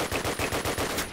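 Rapid automatic gunfire from a World War II weapon in Call of Duty: United Offensive, a loud burst of about eight evenly spaced shots fired close up with no talk over it.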